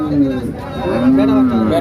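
Friesian cows at the Sonaichandi cattle market give deep, drawn-out moos that rise and fall, loud and close, with a murmur of market chatter behind them.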